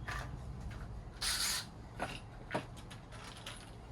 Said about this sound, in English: Just gonna put a couple screws in and go for it.